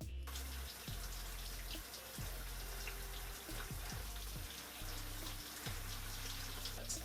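Water runs steadily from a shower, a continuous wash of hiss and splatter over a low hum, fairly quiet, with no one talking.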